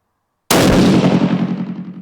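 One sharp rifle shot from reloaded ammunition fired through a new barrel cracks out of silence, loud and close, and then a ringing echo slowly fades away.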